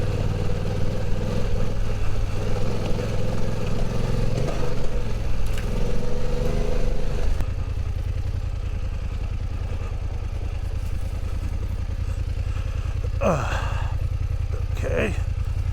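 A BMW F900 GS motorcycle rides off road, its mid-pitched engine droning loud and steady throughout with rumbling clatter, shifting to a lower, constant tone partway through as a couple of brief sharp rasps cut in near the end.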